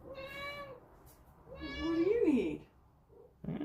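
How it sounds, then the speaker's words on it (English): A pet cat meows in two drawn-out, rising and falling calls close by, with a person's voice speaking briefly around them indoors. "That's our cat people. If you like cats, we got 2 cats."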